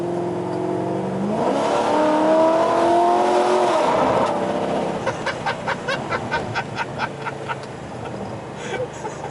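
Modified Chevy Caprice police car with a 6-liter engine, its engine droning and rising in pitch as it accelerates, then dropping off, followed by a run of sharp rhythmic clacks or quacking bursts; no talking.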